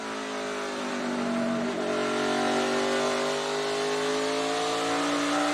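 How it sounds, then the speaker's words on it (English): A loud NASCAR race car engine drones and revs steadily at high pitch during practice and qualifying, on the edge of spinning its tires, sustained and close, with no voices. "you could hear there the engine just wanting to spin the tires"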